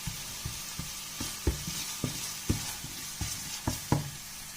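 Onion sautéing in a pan with oil for kare-kare: a steady sizzle runs throughout, and about a dozen soft knocks and scrapes from stirring land at a fairly even pace, close up, with no one talking.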